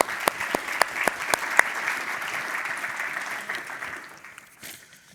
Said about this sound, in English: So please give a warm applause for them to welcome them here.